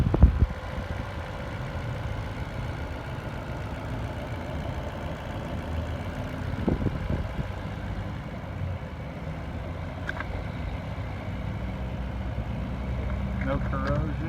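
A 2010 Lexus GX 460 engine idles steadily with a low, even rumble, a few brief clicks and knocks rising over it near the middle.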